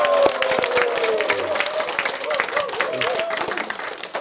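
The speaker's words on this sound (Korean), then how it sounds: "우리 모두를 위해서 힘찬 박수 부탁드리겠습니다" An audience at a village guest lecture claps together in a continuous burst of applause, close and fairly loud, with a voice rising briefly over the clapping near the start.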